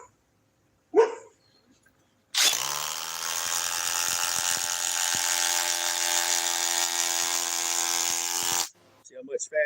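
A cordless impact driver rated at 4,900 impacts per minute drives screws in one continuous loud, buzzing burst lasting several seconds, with a brief voice before it and sounds after it stops.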